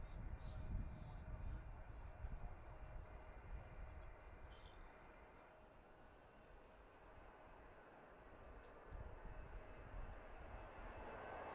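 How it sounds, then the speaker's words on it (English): An airplane takes off from runway 1 at Washington Reagan National Airport, heard as a distant low engine rumble that swells, eases off midway and builds again. "here's the one taking off on runway 1"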